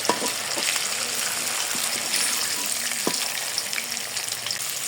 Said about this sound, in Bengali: একটু সময় নিয়ে ভাজতে হবে যাতে ঝিঙ্গেগুলো খুব ভালো করে ভাজা হয়ে যায়